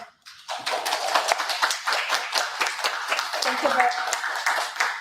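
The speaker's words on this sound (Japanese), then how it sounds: "ジュリアンさんをはじめとするオースティン・大分姉妹都市委員会の皆様への感謝の意を込め、皆様拍手をお送りください。" Applause from participants at a Austin–Oita sister city virtual exchange, starting abruptly and continuing as a steady patter of many hands clapping, fairly close, with a faint voice briefly audible near the end.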